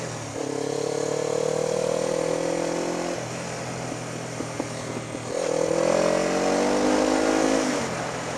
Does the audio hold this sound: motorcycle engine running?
yes